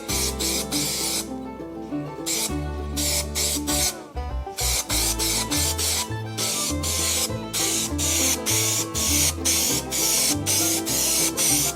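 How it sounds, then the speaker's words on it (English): A second coat of spray paint is misted onto a 1974 Travelall in rhythmic hissing bursts, with steady music playing underneath and no one talking. "then we'll mist on a second coat"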